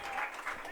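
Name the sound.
crowd applause for a softball pitcher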